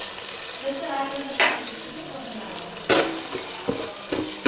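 Ground green chillies and dry coconut powder fry in a pan with a soft, steady sizzle, broken by a few sharp scraping stirs.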